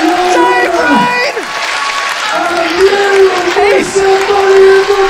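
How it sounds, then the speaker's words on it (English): A wrestling crowd in Preston erupts at a Money in the Bank event, loud sustained cheering and applause filling the hall, with excited commentary voices talking over the roar. "the crowd goes wild here in Preston"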